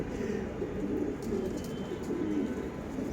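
Pigeons softly cooing in a loft, a steady low murmur of several birds nearby, continuous with no talk.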